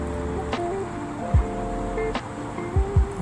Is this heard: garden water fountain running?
yes